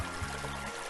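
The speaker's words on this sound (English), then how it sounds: "And there's water." Water from the Greenflower Zone level of the video game Sonic Robo Blast 2 gives a brief, steady wash of splashing and pouring noise, continuous and moderately loud with no speech.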